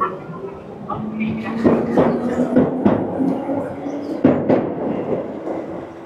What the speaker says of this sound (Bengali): চলে গেল আমাদের ট্রেন।